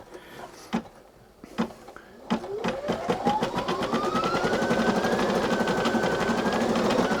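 Brother Innov-is NQ3700D embroidery machine starting up after a few separate clicks, then ramping into a fast, rapid-fire stitching chatter with a rising motor whine, close and steady.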